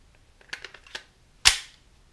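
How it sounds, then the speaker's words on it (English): A magazine is pushed into a Glock 43 pistol fitted with Talon grips: a few light plastic clicks, then one sharp, close snap as it seats, with no talking. "Let's go ahead and put the magazine in."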